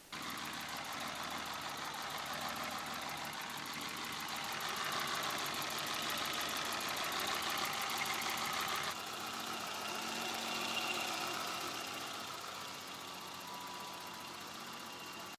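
A BMW E30 325i M20 engine idles steadily with a faint, rapid valve ticking running through it; the tone shifts slightly partway through, before and after valve adjustment, with no voices.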